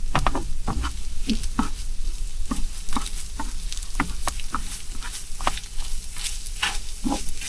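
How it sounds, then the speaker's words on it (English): A spoon scraping and scooping food from a hot pan on a stovetop burner, repeated quick scrapes in an irregular rhythm over a steady sizzle, close and fairly loud. "I'm going to have to scoop this out and the spoon's not going to do it too quickly"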